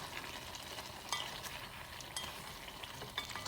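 Kuyrdak with over a kilogram of potatoes being stirred in a hot pan: a steady frying sizzle broken by scattered scraping clicks of the spoon, close and moderately loud, with no voices.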